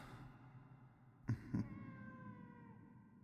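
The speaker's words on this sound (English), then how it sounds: "That sound. It's coming from that person. He's got a cat." A cat meows in the dot.hack//G.U. video game, two short quiet mews in quick succession over a soft ambient hum and a faint sustained tone.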